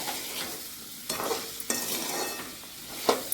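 Spoon scraping and stirring a raw mango pickle mixture with jaggery as it sautés in a pan, with a soft sizzle underneath and several distinct scrapes spaced through the clip, close and alone.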